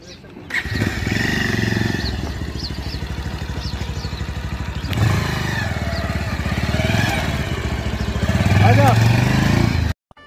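A motorcycle is ridden near Dal Lake, its engine a steady close drone that grows slightly louder toward the end before cutting off, while people talk over it.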